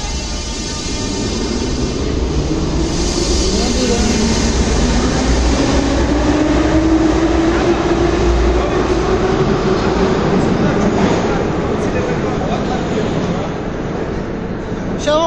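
A Tbilisi metro train rolls through an underground tunnel, heard from inside the car as a loud, continuous roar with rumbling wheels and a rising whine, while voices talk over it.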